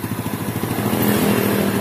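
A Yamaha Vega R motorcycle engine fitted with a new aftermarket piston and carburetor, running close up with a fast, rough throbbing idle that rises slightly as it is revved.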